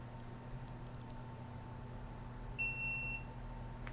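A single short electronic beep from a smoke alarm indoors, fairly faint, sits alone against a constant low background hum.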